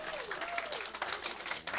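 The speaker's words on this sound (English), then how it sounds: "How about one more round of applause?" Audience at a celebration service giving a round of applause, faint and distant clapping with a voice speaking over it throughout.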